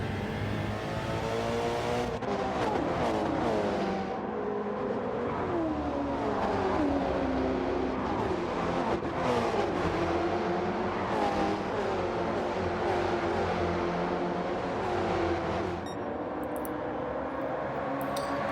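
Porsche Cup race cars roar along a circuit in a line, engines revving up and down through gear changes in a steady loud drone, several cars close together and near, without talk.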